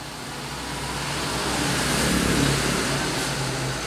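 A Suzuki Smash motorcycle engine, rebuilt with a makeshift exhaust, runs steadily and swells slightly in loudness, a close, rough drone with broadband exhaust noise and no talking.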